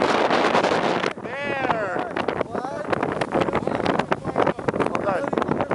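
Strong wind buffeting the microphone at a beach during a blizzard: loud, continuous gusty roar with rough bursts, under excited voices calling out and talking.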